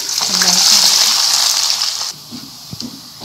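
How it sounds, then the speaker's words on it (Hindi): Onions hit hot oil with a loud, bright sizzle that roars for about two seconds, then cuts down to a softer crackle with a couple of small clicks, as for frying before a potato biryani. "अब हम सबसे पहले ये प्याज इसमें फ्राई करेंगे"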